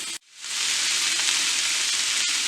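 Onions, peas and carrots sizzle steadily in a hot pan for stir-fried rice, a loud, continuous frying hiss that starts after a brief pause and carries on alone with no voices.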